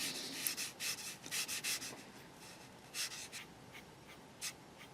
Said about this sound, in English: if hand's scraping across the cardboard, that's going to sound shocking in the audio